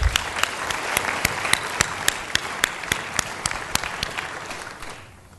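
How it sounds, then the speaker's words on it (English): Applause from a conference audience after an innovation panel session, a full room clapping steadily with a few sharp standout claps on top, tapering off at the end. "give yourselves a big round of applause"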